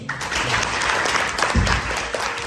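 Applause from a small group at a mock university admissions interview orientation, steady clapping for a couple of seconds at close range.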